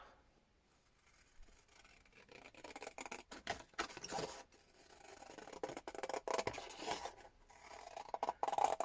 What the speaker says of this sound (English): And then scissors